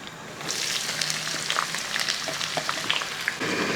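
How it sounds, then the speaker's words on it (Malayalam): Onions sautéing in ghee with bay leaves for kuska biriyani, a steady close sizzle with intermittent stirring scrapes throughout, no voices. "ഈ സവോളയൊക്കെ ഉണ്ടല്ലോ നല്ലപോലെ ഒന്ന് വഴറ്റിയെടുക്കും"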